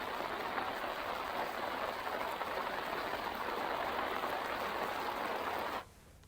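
Heavy rain pours in Himachal as a steady, dense hiss of falling water, loud and unbroken for nearly six seconds before cutting off abruptly to quiet.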